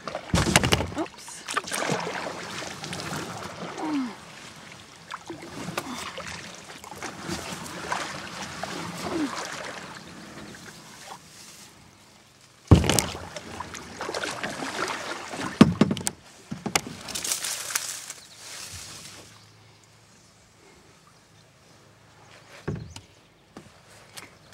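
A kayak paddle dips and pulls through water outdoors, with repeated splashy strokes, drips and sloshes near the boat, some louder bursts and quieter stretches.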